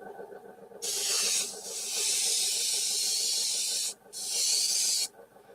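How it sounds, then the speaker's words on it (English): A small kit airbrush compressor and spray hiss loudly and steadily in long bursts, cutting off briefly between them, with a faint mechanical hum underneath. "This is a kit, yeah, it's a small compressor"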